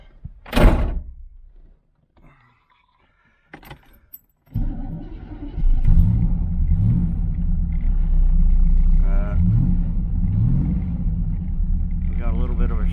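A 1985 IROC-Z with old, stale gas in its tank cranks over after a few clunks and thumps, then catches and settles into a steady, rough low idle that keeps running.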